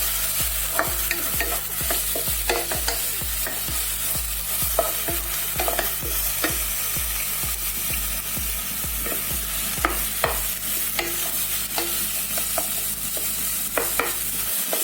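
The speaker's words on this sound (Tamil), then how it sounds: "கொஞ்சம் ஒரு 1 or 2 minutes நீங்கள் ஃப்ரை பண்ணணும்." Green chili, cumin seed and raw coconut fried in a pan for pumpkin poriyal, with a steady rhythmic series of close spatula scrapes and taps over a constant gentle sizzle, and no voices.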